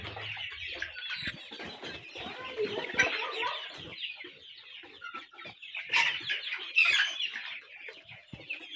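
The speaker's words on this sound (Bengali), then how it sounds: "আমি একটা মুরগি ধরে দেখানোর চেষ্টা করব" A busy flock of desi Sonali chickens on a farm, some with a respiratory cold, cluck and squawk continuously nearby, chattering with a few louder sharp calls standing out.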